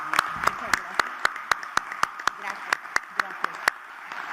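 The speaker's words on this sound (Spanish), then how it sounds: "merece un aplauso digno" Audience applause at an academic teachers' assembly, heard as a steady series of sharp, evenly spaced claps close by, with voices murmuring in the background.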